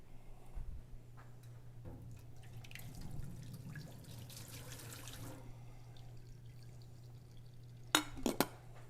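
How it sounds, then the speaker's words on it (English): Hot water from a kettle is dumped into a sink, leaving faint splashing and dripping over a low hum, with a few sharp clinks near the end. "So I'm just going to dump it out over here in the sink."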